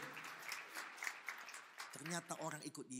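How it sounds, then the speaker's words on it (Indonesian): A church congregation applauds with a dense patter of clapping in a large room, while a voice speaks over it loudly. "Tepuk tangan yang paling meriah buat Yesus Kristus Tuhan."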